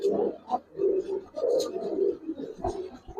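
A Teddy-bred pigeon gives low, throaty coos in a series of rolling phrases, close by and fairly loud.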